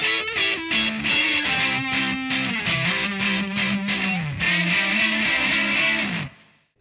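Distorted electric guitar chugs through the bridge rhythm of a song, dense and steady with shifting low chords, loud and continuous before cutting off at the end.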